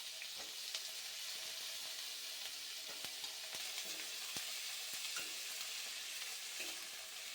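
Beans and capsicum frying lightly in a pan, a faint, steady hiss with scattered small pops and crackles throughout and no voices.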